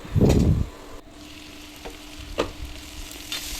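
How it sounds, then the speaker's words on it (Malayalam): Bitter gourd frying in oil: a loud stirring scrape at the start, then a soft continuous sizzle with occasional clinks of the spoon against the pan. "പാവയ്ക്ക ആ എണ്ണയിലേക്ക് ബാക്കി വന്ന എണ്ണയിലേക്ക് ഇളക്കി യോജിപ്പിച്ച് ഒന്ന് അടച്ചു വെക്കണം"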